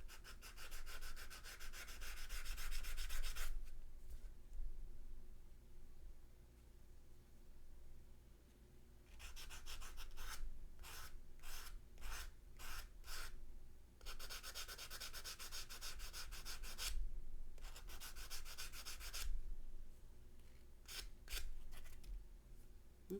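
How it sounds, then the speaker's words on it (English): Sandpaper rubbed over a small metal tree of life pendant, worked into tight spots, making steady close rasping strokes in long runs and quick bursts, separated by short pauses, with no talk. "You can sand into weird places like that"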